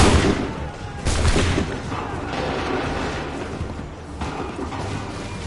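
Massed musket fire in Assassin's Creed III, with one booming volley about a second in, another burst near four seconds, and dense crackling battle noise filling the gaps.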